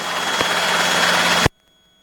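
Robinson helicopter hovering during a training flight, a loud, steady close engine and rotor roar that cuts off abruptly about halfway through, leaving near silence.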